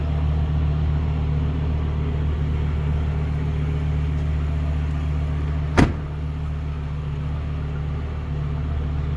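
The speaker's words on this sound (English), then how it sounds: "That V10's really got a growl to it too." A 2005 Ram SRT-10 Viper truck's V10 engine idles with a steady, deep growling rumble, broken once by a single sharp click partway through.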